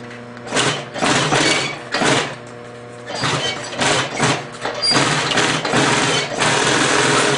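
A flatbed sewing machine stitches binding onto a thumb piece, its motor whirring in several loud bursts separated by brief pauses, close and alone.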